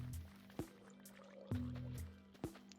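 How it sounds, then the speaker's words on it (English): A Minecraft drowned zombie gurgles underwater in the video game: three short, wet bubbling blips spaced about a second apart, faint and alone over a low steady hum. "That is the sound of a Murgle"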